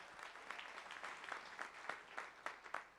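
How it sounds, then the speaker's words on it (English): Applause at a fundraising endowment event, a brief burst of audience clapping with scattered distinct hand claps, fairly faint and distant, lasting a few seconds. "Let's have a round of applause for that."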